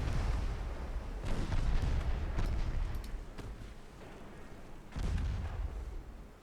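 Warship guns fire in a naval battle video game, the ship Centaur among those firing, with several heavy booming shots trailing into rumbling echoes, a strong blast near the start and another late, loud and close.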